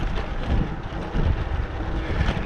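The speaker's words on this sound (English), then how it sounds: "together with a 4 or 5 knot tailwind gusting 7 or 8" Wind buffets the microphone of a touring cyclist riding with a 4 to 5 knot tailwind gusting 7 to 8 on a quiet road between Belene and Ruse, a constant close rumbling rush that swells slightly with the gusts.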